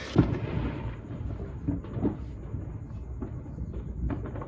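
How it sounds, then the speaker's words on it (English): Fourth of July fireworks boom and crackle outside a backyard, dull distant thuds arriving irregularly over a low, steady background rumble. "You're probably hearing all the fireworks."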